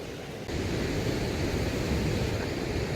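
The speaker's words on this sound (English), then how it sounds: "Sorry about all the wind." Wind buffets outdoors on a cold hike by the San Francisco Bay, a dense low rumbling roar that strengthens abruptly after half a second and stays steady.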